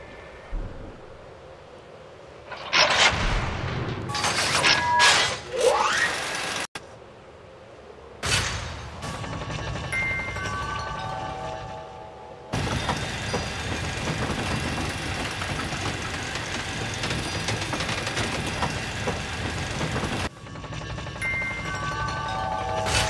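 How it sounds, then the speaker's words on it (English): In Final Fantasy XIII, an elevator ride begins with scattered mechanical clanks and whooshes, then turns into a steady, rumbling hum of machinery that holds for several seconds before stopping abruptly. A short burst of sound follows the stop. "go ahead and enter the elevator that is behind the statue"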